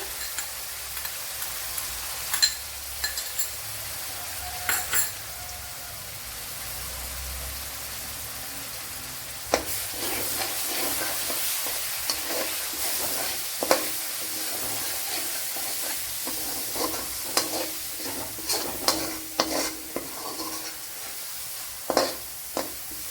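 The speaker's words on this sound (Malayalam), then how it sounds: "ചെറിയ പീസ് ഇഞ്ചി, ഒരു 3 പച്ചമുളക് ഇത്രയും ചതച്ചതാണ്. ഒന്ന് ഇട്ട് കൊടുക്കാം." Crushed ginger and three green chilies drop into hot oil for a prawn biryani, giving a soft, steady sizzle broken by sharp crackles and spits, with a louder burst of frying partway through.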